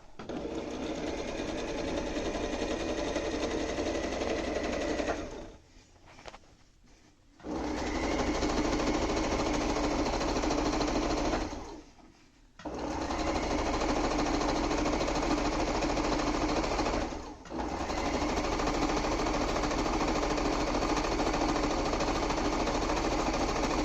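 A sewing machine stitches a quilt seam in long, steady, close-up runs of rapid mechanical clatter, pausing briefly three times before resuming.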